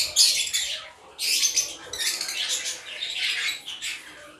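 Fischer's lovebirds in a cage, including a yellow or green Fischer, give bursts of shrill, high chirps and squawks in several quick clusters, close and fairly loud with no talking.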